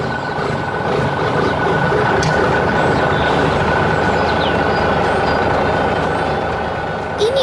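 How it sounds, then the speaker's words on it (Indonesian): An animated yellow truck lifts and moves a large tree through a green farm garden, its engine a steady, loud rumble with a grinding machinery texture that holds throughout. "Truk sedang bekerja dengan sangat fokus di tengah kebun yang hijau."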